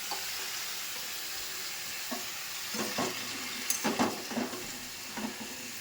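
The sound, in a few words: vegetables frying in a pan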